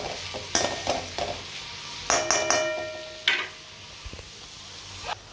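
Vegetables for Hakka noodles sizzle and hiss while stir-frying in a pan, with repeated sharp clinks and scrapes of a utensil against the metal, close and steady.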